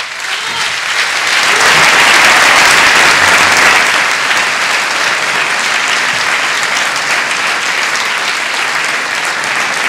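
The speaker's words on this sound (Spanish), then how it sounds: "Un aplauso para él," Loud, sustained applause from a concert audience for a piano tuner, dense clapping that swells in the first seconds and then holds steady for the full length, with no speech over it.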